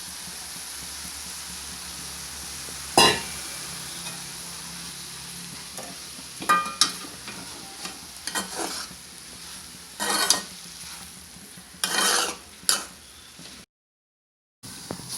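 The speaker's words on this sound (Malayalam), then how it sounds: "ഇനി നമുക്ക് പൊടിയിട്ട് കുറച്ച് നേരം കൂടി ഇതുപോലെ ഇളക്കണം" Soya chunks stirred and fried in a pan: a low, constant sizzle broken by intermittent scraping and clinking strokes of a spoon, then a brief cut to silence before the sizzle returns.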